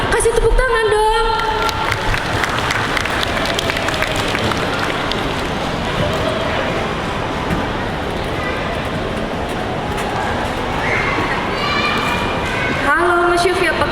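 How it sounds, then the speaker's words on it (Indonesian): An audience at a music school showcase claps and cheers in a dense, continuous roar, with excited shouting and babble mixed in and a few voices near the start and end. "Yang penting, ya kasih tepuk tangan dong."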